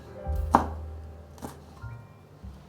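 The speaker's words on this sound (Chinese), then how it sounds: "把青椒切丁状。" A knife dices green bell pepper on a cutting board, giving a few separate, fairly close chops spaced unevenly over a quiet background.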